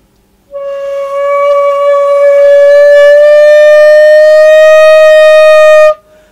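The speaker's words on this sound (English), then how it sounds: "pull the shakuhachi down to your 45 degree angle. But you want to hear your pitch rise" A single sustained shakuhachi flute note starts after a short pause, swells, and slowly rises in pitch, loud and breathy with rich overtones before cutting off abruptly.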